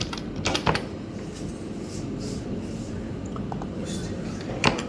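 Keys clatter on a computer keyboard in quick, uneven bursts over a steady room background, with a couple of sharper clicks standing out.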